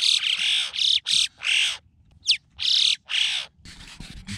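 Birds being fed on the Hoher Göll summit in the Alps in summer, giving a run of loud, harsh, repeated squawking calls in close bursts with short pauses, one higher chirp in between.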